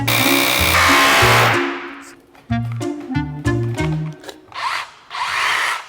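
A power drill runs in loud, repeated bursts, starting and stopping several times with a harsh, rattling hammering edge.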